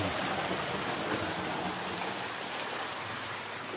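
Water gushing up out of a water bore in a date palm orchard near Madina, a steady, close splashing rush with a bright hissing spray, continuous and even with no voices.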